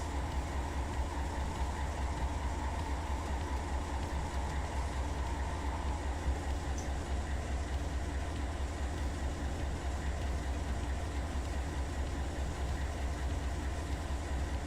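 Freight train in the Run 8 train simulator on the Tehachapi Mountains route, a steady low rumble and engine hum with constant rolling noise throughout, no voices.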